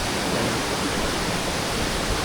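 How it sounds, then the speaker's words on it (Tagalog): Waterfall spray at Hulugan and Taytay Falls in Laguna, a steady dense roar of falling water, loud and close, with no other sounds. "pangalawa malakas yung talsik ng tubig"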